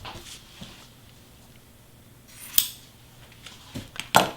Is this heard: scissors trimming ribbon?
yes